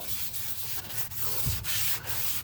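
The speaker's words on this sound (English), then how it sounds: "got a little Brillo pad, Scotch-Brite Brillo pad, just going to town" A Scotch-Brite Brillo pad scrubs steadily and roughly over a 2wd Ford F350's removed front suspension parts, a close, continuous abrasive rubbing with a few sharper strokes and no talk.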